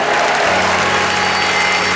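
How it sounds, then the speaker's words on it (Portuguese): Church congregation applauding the Lord during a sermon, a dense, steady wash of clapping that fills the whole two seconds at close, loud level. "Aplauda ao Senhor."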